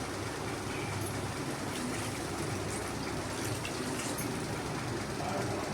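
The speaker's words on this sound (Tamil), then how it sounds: "நம்ம தண்ணி சேர்த்துக்கலாம்" Water pours steadily into a pan of ridge gourd and peanut gravy with a continuous rushing hiss, close and unbroken throughout.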